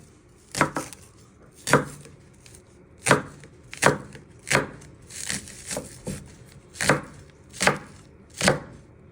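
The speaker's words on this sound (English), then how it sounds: "Then you'll keep chopping all your spring onions." A knife chops spring onions on a cutting board in a home kitchen, about a dozen crisp, evenly spaced knocks close to the microphone, with no talking.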